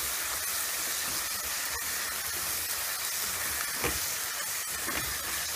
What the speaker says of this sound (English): mix it well until remove the raw smell of this shallots and green chilies